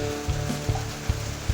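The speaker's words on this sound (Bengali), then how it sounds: "তো তেলটা গরম হয়ে গেছে, এখন মাছটা ছেড়ে দিল।" Small fish frying in hot oil with a steady sizzle and a few sharp spits and pops, close and moderately loud.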